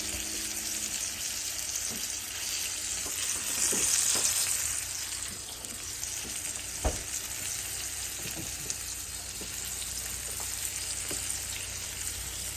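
Puree for buttered chicken cooking in a hot pan gives a continuous, close sizzle with a few faint clicks and bubbles over a steady background.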